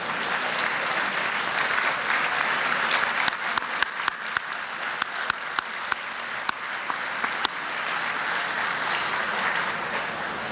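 An awards dinner audience applauds the Boyle family in tribute, dense sustained clapping filling the room at a steady level for the full stretch, with a few sharper individual claps standing out.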